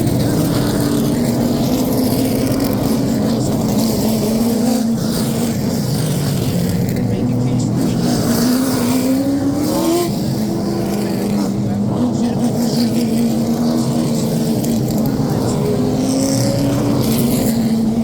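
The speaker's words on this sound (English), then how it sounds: "start your engines!" Race car engines roar at Florence Motor Speedway in South Carolina, a loud continuous drone of several motors revving and shifting pitch, with a voice talking over them.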